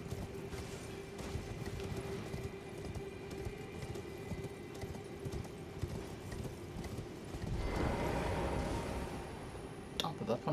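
Horse hooves clip-clop at a steady gallop while riding in the video game Elden Ring, a rhythmic moderate beat under a low game soundscape, with a brief swell of effects near the end.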